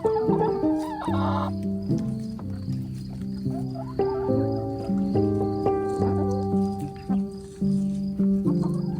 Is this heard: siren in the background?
no